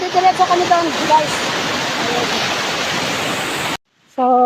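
A stream rushes along a forest path on the way to Halat Falls, a steady loud broadband roar of flowing water with faint voices at the start, then a brief cut and a sudden tonal sound at the end.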